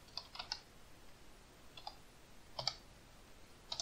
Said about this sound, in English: so that's what I'm going to type right here.